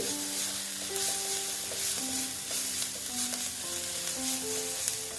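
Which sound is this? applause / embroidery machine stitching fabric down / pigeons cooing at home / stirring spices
stirring spices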